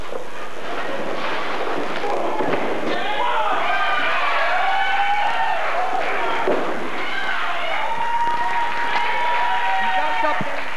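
Crowd at a 2002 NEPW student wrestling show applauding and cheering, a loud sustained roar with whistles and shouts, while a commentator talks over it throughout.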